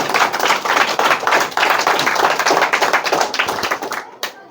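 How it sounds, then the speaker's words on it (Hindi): Loud, dense clapping from a classroom audience applauding a student during a results announcement, continuous hand claps filling the room before tapering off at the end, with some voices mixed in. "तो इसके लिए भी जोरदार ताली बजाइए"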